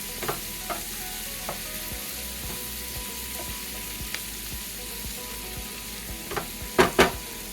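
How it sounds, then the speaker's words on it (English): Sliced cabbage sautés in bacon fat for haluski, giving a low continuous sizzle with occasional sharp spatula clicks and taps, a couple louder near the end, and no speech. "I prefer to saute it in the bacon fat"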